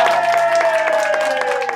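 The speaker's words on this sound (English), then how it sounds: "Let's give a big clap to" Audience applause at a school recognition event honoring an assistant principal of the year, loud and close clapping throughout, with a steady tonal hum running underneath.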